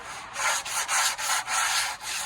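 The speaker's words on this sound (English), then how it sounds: "I could do it with a sanding block." A sanding block rubbed back and forth over a painted wooden window sash to strip the paint, making a steady rhythmic rasping with about five close strokes in a row.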